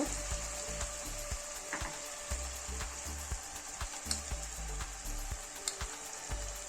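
Ginger-garlic paste sizzles and fries steadily in a pan for an egg and fish curry, with soft crackling and occasional stirring scrapes, fairly quiet and without speech.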